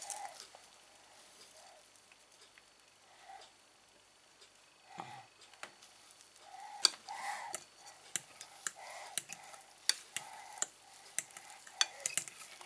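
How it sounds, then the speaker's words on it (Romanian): Batter for healthy children's muffins being stirred in a bowl, a quiet run of soft scraping and light spoon taps that grows busier and more clicky toward the end, with no talk. "Și amestecăm."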